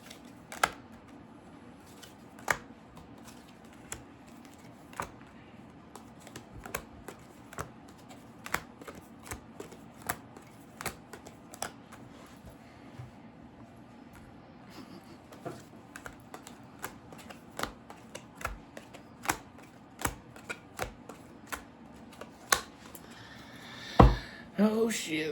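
Tarot cards are shuffled and handled with scattered soft clicks and riffling taps, quiet and close, in irregular bursts over a faint background hiss.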